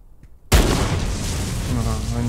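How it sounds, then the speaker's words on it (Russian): A sudden loud explosion in Trans-Siberian Railway Simulator erupts after a moment of near silence, then rumbles on as a sustained roar of debris and fire. "Ага, они взрываются."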